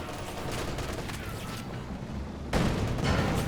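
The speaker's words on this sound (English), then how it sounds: "Axe barrage firing away." Axis artillery barrage in the Company of Heroes 2 strategy game, a dense rumbling roll of shelling that swells louder near the end, with no talk over it.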